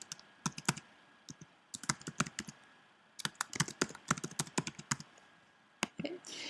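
Bursts of typing on a computer keyboard while writing text onto a credits slide, rapid clicky keystrokes in uneven clusters with brief pauses, close and fairly clear, no talking.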